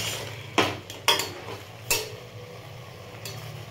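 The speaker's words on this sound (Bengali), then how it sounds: "এবার এটাকে একটু হালকা নাড়াচাড়া দিয়ে নিলাম।" A spoon stirs chicken soup with butter and chopped cabbage in a pot, giving a few sharp scraping knocks against the metal, widely spaced over a quiet low kitchen hum.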